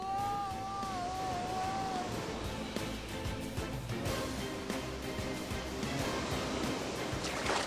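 Rising tidal water surges in a steady, broad rush of surf and sloshing waves, loud and continuous throughout, with a faint tonal sound at the start.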